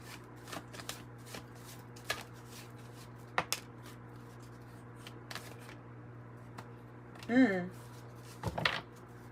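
Tarot cards are shuffled in scattered soft riffles and flicks, close and quiet, with a voice speaking briefly near the end.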